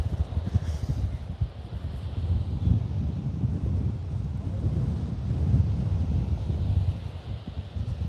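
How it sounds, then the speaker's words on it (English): Strong wind buffets the microphone on a Melbourne beach, a continuous low rumbling roar with gusty fluctuations throughout and no voices. "it's just windy. It's full windy and no sun."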